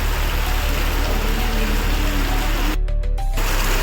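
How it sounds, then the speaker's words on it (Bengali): Heavy rain pours in a dense, constant roar from start to finish, close and loud, with a brief patch of sharper patter near the end. "আর সাথে সাথে দেখছি আবার ঝমঝমিয়ে বৃষ্টি শুরু হয়ে গেছে"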